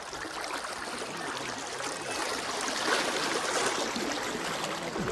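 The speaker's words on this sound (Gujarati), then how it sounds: "એટલું પાણી તે ખેંચીને લઈ જાય એટલું પાણી આવે જો નદીમાં" A river runs over stones in a broad, steady rush of water, loud and close, with no voices.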